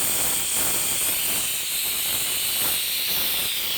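Steady loud steam hiss from a pressure cooker whistling continuously while karahi mutton cooks, a broad airy rush sustained throughout with no voices.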